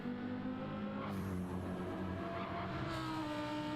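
A BMW GT race car at the 24 Hours of Spa roars past at steady volume, its engine note sweeping in pitch as it approaches and draws away, with no talk over it.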